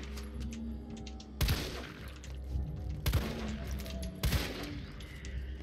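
Gunfire in Resident Evil 3 Remake: three loud, sharp shots arrive about a second and a half apart, each with a crashing tail, over a low steady game ambience hum.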